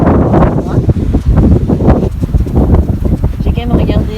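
Wind buffeting a sailing boat at sea, loud gusty roar and rustle right at the microphone, with a voice speaking underneath.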